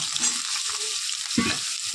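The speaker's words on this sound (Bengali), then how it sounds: "আমার আলুগুলো লাল লাল করে ভাজা হয়ে গেছে, এবার দেবো বেগুন" Young eggplant hisses and sizzles in hot oil in a pan after potatoes, a close, steady frying crackle with brief stirring scrapes.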